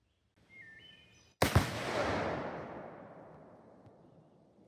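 A 460 S&W Magnum XVR revolver fires into tannerite 40 yards away, setting off one sharp, very loud blast with a long rolling rumble that fades slowly outdoors, while faint birdsong chirps just before it.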